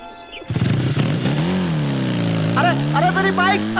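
Motorbike ridden away, its engine revving and rising in pitch, loud and close, while a voice shouts over it.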